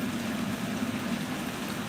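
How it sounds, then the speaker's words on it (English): Rain falling outdoors, a steady, even wash of fine patter heard close and alone, with no voices over it. "It's raining."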